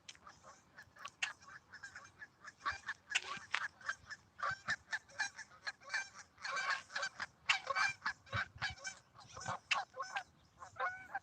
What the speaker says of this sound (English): or the honker's taking off